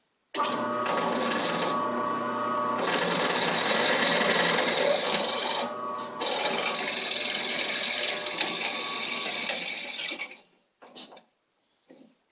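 A power drill whines steadily at close range while drilling holes, pausing briefly mid-way, then running again before stopping with a few short final bursts.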